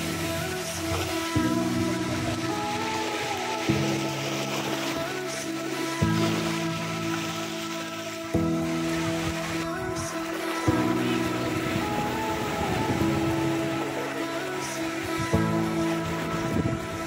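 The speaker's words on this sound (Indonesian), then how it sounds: "Ombaknya lebih besar." Larger sea waves roll in at Teluk Batik beach in Lumut, Perak, as a continuous washing surf mixed with wind noise, with steady tonal sounds repeating in the background.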